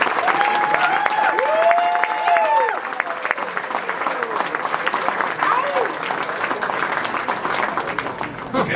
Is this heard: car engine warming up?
no